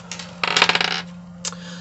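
Dice rattle and clatter in short bursts, a few quick taps, then a dense tumbling roll, then one more brief clack, close and clear against a faint steady hum.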